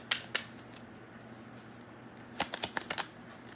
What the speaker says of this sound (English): All these cards keep falling out.